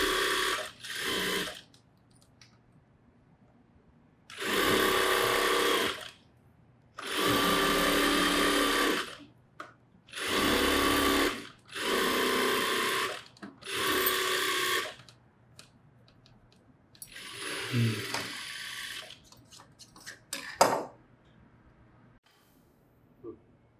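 A tailor's sewing machine stitches a churidar with its lining in a series of short bursts, about seven runs of one to two seconds each separated by pauses, close and loud, with brief talk in between.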